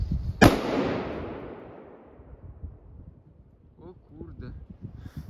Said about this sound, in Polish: Postaram się wrzucić tą petardkę na lód.